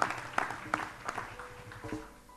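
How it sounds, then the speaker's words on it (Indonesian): Congregation clapping at a worship night service, a scattered burst of hands that thins out and fades over a couple of seconds, with some voices underneath. "Mari berikan tepuk tangan."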